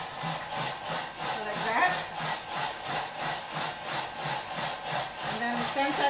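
A Thermomix blade churns in reverse through a mixture for Ayam Korma, a steady rhythmic whirring and scraping with regular pulses, with a short spoken comment over it.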